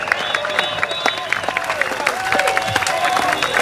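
A crowd at an outdoor Progress Singapore Party election rally in Marymount claps and cheers in a dense patter of hand claps, with some raised voices mixed through.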